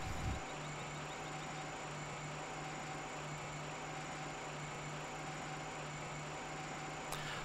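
A small tractor engine idles steadily in Farming Simulator 15, a low continuous hum with a faint constant tone that carries on evenly throughout.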